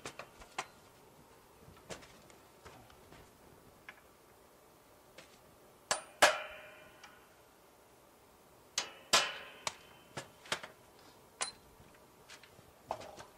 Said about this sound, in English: Just center punch our marks that we made earlier for a drill bit.